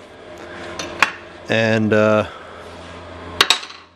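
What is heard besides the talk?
hammer and dolly on aluminum boat prop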